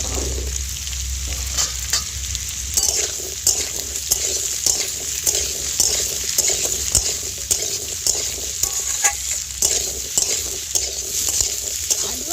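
Eggplant fries in hot oil in a pan, a continuous close sizzle with regular scraping strokes of a spatula stirring throughout.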